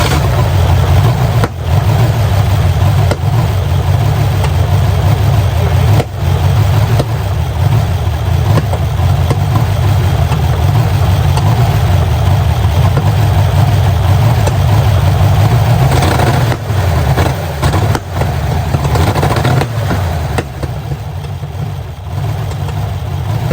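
A 1978 MGB fitted with a Rover V8 engine idles steadily and loud up close, its low rumble continuous and slightly uneven throughout with no talking over it.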